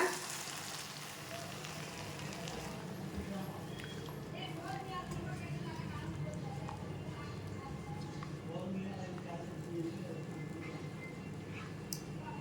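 Potatoes and ground masala sizzle in a pan for a green peas and potato kurma, a steady low frying hiss running through the clip with a voice talking over it.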